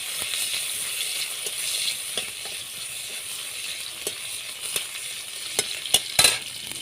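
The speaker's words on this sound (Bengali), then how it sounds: "এখন আমি তেলের মধ্যে কুচিয়ে রাখা পেঁয়াজ দিয়ে দেব। খুন্তি দিয়ে আবারও খুব ভালোভাবে নাড়াচাড়া করতে থাকবো।" Chopped onions fry in hot oil, sizzling steadily while a spatula scrapes and stirs them in the pan, close and clear with occasional sharper knocks near the end and no talk.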